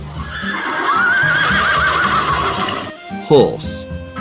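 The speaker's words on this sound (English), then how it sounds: "horse" A horse neighs loudly in a long, wavering whinny lasting about two seconds, followed by a shorter snort-like call, set against a steady background of children's music.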